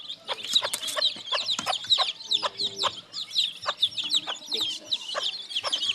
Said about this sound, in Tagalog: Ito yung nanay ng siso.